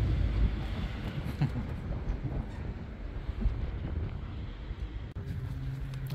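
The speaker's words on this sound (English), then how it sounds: "It's windy, isn't it?" Wind gusts buffet the microphone outdoors, a rough rumbling roar that swells and eases in uneven bursts, loud and close with no clear talk.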